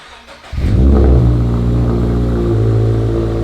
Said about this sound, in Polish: Teraz może być trochę za głośno, z tego względu, że jest tak zwany cold start